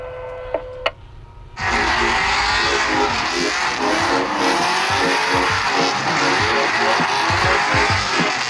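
A drift car at a Pueblo motorsports park track does burnouts, its engine roaring loud and steady while the tires squeal and scrub continuously after a couple of short clicks and a sudden start.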